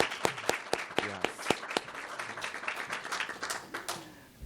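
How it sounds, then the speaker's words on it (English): Scattered applause from a conference audience greeting a keynote speaker as they approach, individual claps distinct and uneven, moderately near but fairly faint, with no talk over it. "give him a round of applause as he approaches"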